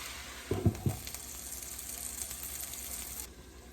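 Vegetable bhaji frying in a pan, a soft steady sizzle with a few brief clatters of stirring near the start, quiet and close with no voices.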